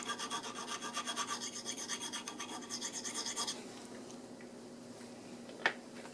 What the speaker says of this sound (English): Filing both sides.